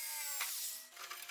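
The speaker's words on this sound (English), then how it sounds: "I drill the hole small in the beginning to have some margin." A short burst of a high-pitched power drill whirring, tone shifting as it bites, then slowing with faint clatter, quiet overall.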